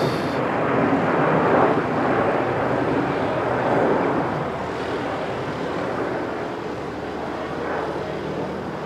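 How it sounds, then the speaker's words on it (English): An Emirates Airbus A380 going around at an airfield sends a broad, steady jet roar across the whole stretch, distant but powerful, swelling slightly early on and then holding as a continuous rumble. "Emirates go around."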